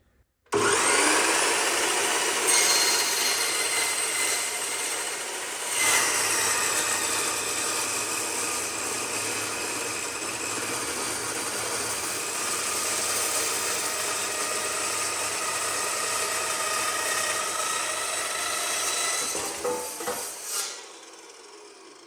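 A power tool cuts a steel beam in two for a DIY mini crane build in a garage, a loud continuous grinding whine that starts abruptly, holds steady with a brief dip, and then spins down at the end.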